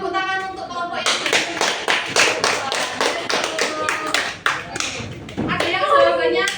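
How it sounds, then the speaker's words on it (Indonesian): A classroom of students applauding a student group, a dense burst of many hands clapping steadily for several seconds, close and loud, with children's voices mixed in. "Oke, beri tepuk tangan untuk kelompok ini."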